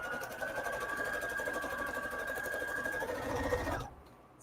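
A sewing machine stitching scrap quilt squares, running as a fast, steady mechanical chatter for almost four seconds before it stops abruptly, quiet and close, with no talking.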